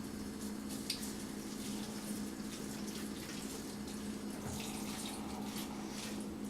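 Tap water runs steadily over celery leaves in a kitchen sink, a continuous moderate wash of flowing water with no talking throughout.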